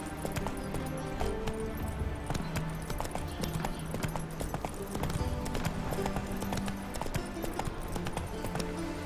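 The horse Roach gallops in The Witcher 3, with rapid, steady hoofbeats drumming close and continuous throughout and faint background game sounds.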